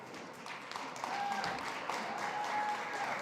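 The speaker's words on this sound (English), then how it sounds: "Big round of applause." Applause from an audience at a food summit at SXSW, fairly faint and diffuse clapping that swells slightly after the first second, with a thin steady tone and faint background chatter underneath.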